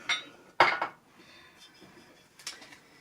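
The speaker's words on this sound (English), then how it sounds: "Let me take this whisk out of here" A metal whisk knocks against a bowl of chocolate brownie mix as it is lifted out, with a couple of sharp clinks close by, then quiet, then a softer clink.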